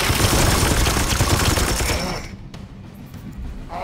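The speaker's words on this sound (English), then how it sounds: "Opening fire." Sustained rapid gunfire in Warhammer 40000: Chaos Gate Daemonhunters, a loud dense burst of shots lasting about two seconds, then cutting off to quieter background.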